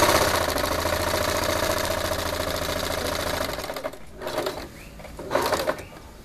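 A sewing machine stitches around the waistband of a bow-band circle skirt, giving a steady, close mechanical whir for about four seconds before stopping, followed by faint handling noises.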